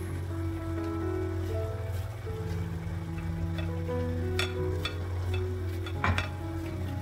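Onions frying in a pan with beef steak for Filipino bistek tagalog, a steady low sizzle and bubbling with occasional stirring clinks, close and continuous, no talking.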